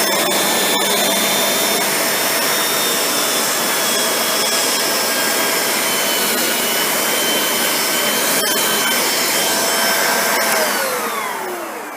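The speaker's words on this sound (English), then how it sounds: "Turn the vacuum on, give this a run." A Dyson Ball Animal 2 vacuum cleaner runs steadily and loudly on medium pile carpet with a high whining motor tone, then winds down at the end.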